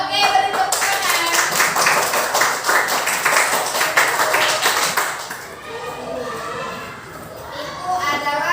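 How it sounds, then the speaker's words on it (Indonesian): A class of Indonesian students claps after reciting the Pancasila, dense, lively applause that fills the first five seconds, then thins out into scattered claps and faint background voices. "beri tepuk tangan"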